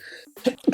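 A single short sneeze, close and fairly loud, with a faint hum before it.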